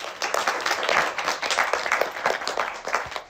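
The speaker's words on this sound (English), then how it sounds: "And give a round of applause for yourself for being such great listeners." Applause from an audience at a children's event: a dense, steady wash of many hands clapping that carries on for several seconds with no voices over it.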